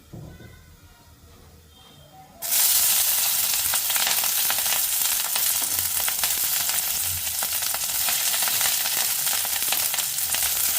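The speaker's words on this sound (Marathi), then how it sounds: "थोडंसं तेल घेतलं आहे आणि त्याच्यामध्ये ही जी ढोबळी मिरची आहे जी आपण चिरून घेतलेली आहे तर ती थोडी परतून घेऊया आपण" Chopped capsicum hits hot oil in a pan and bursts into a loud, steady sizzle after a quiet start, continuing as it is sautéed and stirred.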